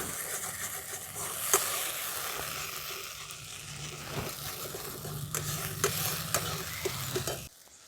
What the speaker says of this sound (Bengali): দেখুন মশলাটা ভালো করে কষিয়ে নেব